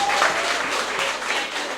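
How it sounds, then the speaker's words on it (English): Applause from the crowd at the Prime Minister's Open Forum, a dense steady patter of many hands clapping at once, fairly loud and close and carrying on without any break. "Give Bonnie now for the round of applause."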